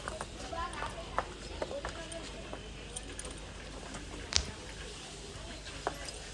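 Horse hooves clip-clop in an uneven rhythm over a noisy outdoor background, with sharp knocks standing out now and then.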